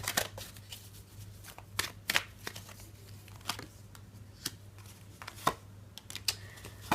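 Tarot cards are shuffled close up in quick irregular riffling bursts of crisp snaps and flutters, fairly quiet over a faint steady hum, with no speech.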